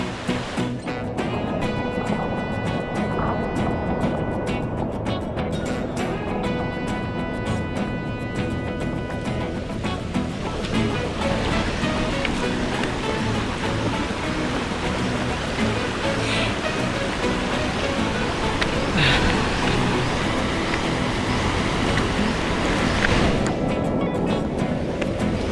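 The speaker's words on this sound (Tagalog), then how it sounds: "malakas na yung agos ng tubig" Strong floodwater current rushing after rain, a loud, unbroken broadband roar of churning water that holds steady throughout, close and with no voices.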